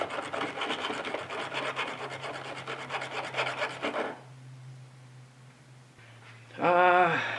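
A finer metal file rasps back and forth across a cheap pocket knife money clip in quick, even strokes for about four seconds. A quiet hum follows, then a short, brighter scrape near the end.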